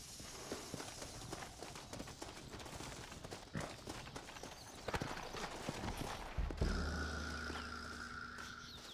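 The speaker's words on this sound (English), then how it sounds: "Looks like Carlos left us some horses" Rapid clip-clop of galloping horse hooves in Red Dead Redemption drums steadily for several seconds, fairly close, before a low rumbling tone swells in near the end.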